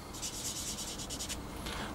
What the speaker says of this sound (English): now I've just sanded that away